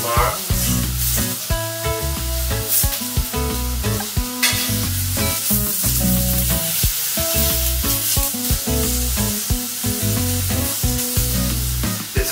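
Vegetables including tomatoes sizzling on a griddle pan: a loud, continuous frying hiss with stirring clatter, under steady rhythmic background music.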